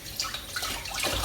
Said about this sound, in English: Fully wash them to get everything off